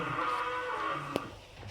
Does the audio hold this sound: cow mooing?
yes